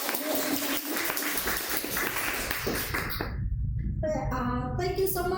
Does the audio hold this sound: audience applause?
yes